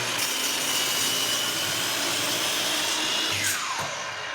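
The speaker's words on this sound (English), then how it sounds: "So we'll go over to the miter saw and cut one end off." A miter saw cuts the end off a piece of wood stock, with a loud continuous whine from the blade through the cut. The motor then spins down in a falling pitch near the end.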